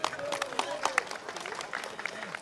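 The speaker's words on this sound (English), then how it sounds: "give a warm round of applause to your County Councilwoman, Janet Kilpatrick." Audience applause at a Chinese festival's VIP remarks, greeting a county councilwoman: steady scattered clapping from a crowd, moderately loud, with a voice and a tonal sound audible beneath it.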